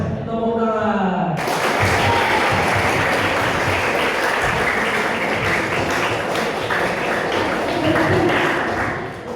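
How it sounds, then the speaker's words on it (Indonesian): Many hands clap together in a Simon Says game at a school book event, a loud, dense burst that follows a short voice and carries on for several seconds. "Simon Says tepuk tangan"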